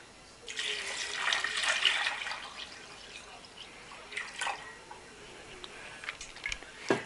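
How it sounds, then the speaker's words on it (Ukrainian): Water splashes and trickles into a pot of beans and cabbage, a burst of pouring followed by quieter intermittent drips and splashes. "Заливаю водою."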